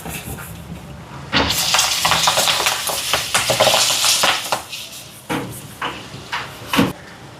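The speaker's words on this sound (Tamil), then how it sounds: "இதில் வடை பொரிச்ச எண்ணெயிலேயே நான் அப்பளம் பொரிச்சு எடுக்க போகிறேன்" Loud, steady sizzling and hissing of papad frying in hot oil already used for vada, with bursts of bubbling and a few clinks of utensils.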